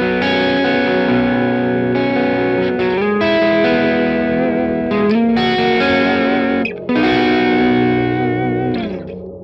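Electric guitar played through a Headrush MX5 pedalboard with pitch shifted two octaves down, loud sustained distorted notes and chords changing every second or two, with no speech.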